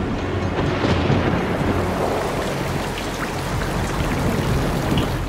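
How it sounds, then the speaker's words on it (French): Steady heavy rain, presented as liquid methane falling on Saturn's moon Titan, hisses and patters as a dense, constant wash with no pauses or voices. "il pleut du méthane."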